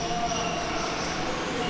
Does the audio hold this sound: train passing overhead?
yes